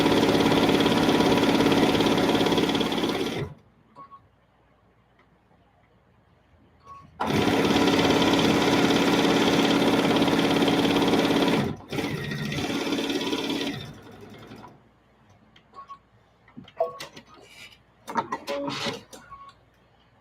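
Loud, close sewing machine stitching a jelly roll fabric strip, two long sustained runs of dense motor hum with a silent gap between, then a shorter run and scattered handling clicks.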